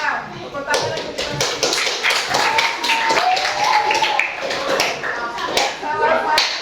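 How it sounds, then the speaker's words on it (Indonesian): Students in a grade 5 class clap in a fast, busy burst of many hands that lasts throughout. Voices and chatter mix in with the clapping. "Tepuk tangan untuk kita."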